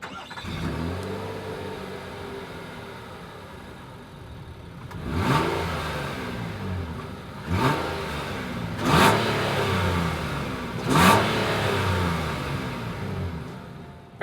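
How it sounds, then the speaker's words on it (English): A 2026 Nissan Pathfinder SUV idles with a deep exhaust rumble, then four sharp revs at spaced intervals, each surge rising and falling back to idle. "As always, here is that exhaust clip."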